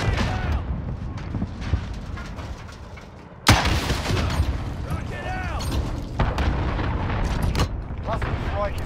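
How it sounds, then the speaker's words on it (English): Booms and blasts from a cruise missile strike and other explosions in a military video game, loud and dense, with a sharp hit near the middle and rumbling fire continuing, under radio-style voices. "Allied cruise missile away."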